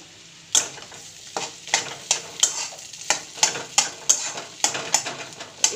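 Potatoes sizzling in a pan on low gas while a spatula stirs and scrapes them in a steady rhythm of sharp close strokes over a constant frying hiss, no voices.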